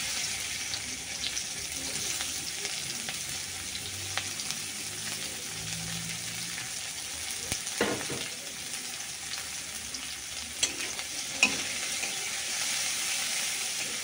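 Chopped onions sizzle in hot oil in a kadai-style wok for a prawn dish, a steady close frying hiss with a few soft stirring knocks and clinks and no talking.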